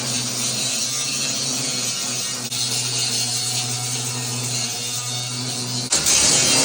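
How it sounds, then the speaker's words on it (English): An angle grinder grinds down welds on sheet metal inside a Grumman van, a loud continuous whine with a steady hum, then a sudden jump in pitch and intensity near the end. "But we've got to grind them down just so it's smooth."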